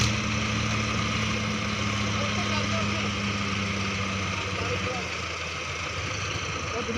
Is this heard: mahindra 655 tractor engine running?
yes